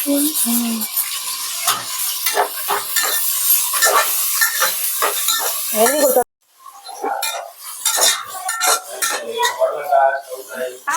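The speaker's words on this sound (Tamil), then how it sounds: "நல்லா இந்த வெங்காயத்தை வந்து நல்லா ஃப்ரை பண்ணணும் பிரியாணிக்கு." Onions fry for biryani in a pan, a loud sizzle under constant scraping and clinking of a stirring spoon, briefly cutting out midway before resuming.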